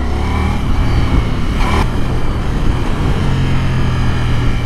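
A motorcycle accelerates with a loud, close engine roar that holds steady with a short higher-pitched burst midway, with no talking.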